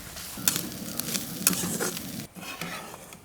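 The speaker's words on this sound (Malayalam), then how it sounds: "ഈ ഒരു തേങ്ങയൊക്കെ ഒന്ന് ഗോൾഡൻ കളറാവണം അതുവരെ ഒന്ന് വറക്കട്ടോ" Grated coconut fries in coconut oil while a utensil stirs and scrapes it, a steady close sizzle broken by repeated stirring clinks and scrapes, with no talking.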